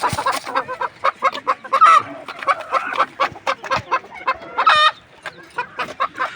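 Farm chickens clucking in a steady run of short, close calls, with one brief louder squawk partway through and no talk.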